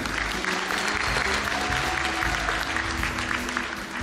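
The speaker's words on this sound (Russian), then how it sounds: "Тоже бурные аплодисменты." Audience at a televised talent contest breaks into steady, vigorous applause, a dense, even patter of many hands that holds for several seconds with no talk over it.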